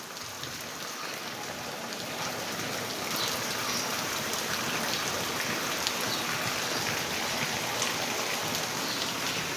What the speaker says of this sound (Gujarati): વરસાદ પડે છે તો થોડોક હવે ધીમો પડ્યો પેલા કરતા